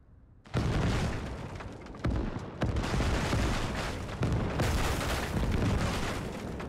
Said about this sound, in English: We're going to see rockets coming by here.